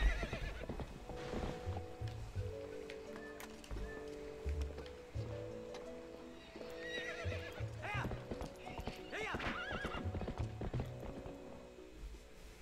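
Hoofbeats of a horse in Zelda: Twilight Princess clip-clop in a steady galloping rhythm, joined by whinnies and neighs over game music and ambient sounds throughout.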